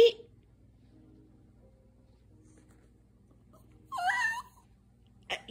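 A Chihuahua whimpers briefly at close range, one short whining burst near the end of a mostly quiet stretch with a faint low hum, followed by a small final yelp-like sound.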